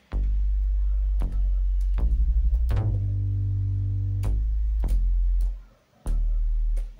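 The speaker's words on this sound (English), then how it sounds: "And we have Blue Sunday, which is my favorite bass of all time." The Blue Sunday synth bass preset plays a deep, booming line of sustained low notes with sharp attacks, some held and gliding, loud and alone with a short pause before the final note.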